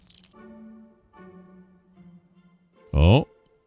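In a video game, nectar is poured into an ancient fountain with a short, loud, wet splash. The splash follows a stretch of soft talking.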